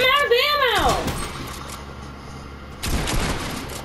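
Gunfire in Fortnite, a burst of sharp cracking shots near the start, then a quieter pause before another volley, mixed with game sound effects and under a player talking.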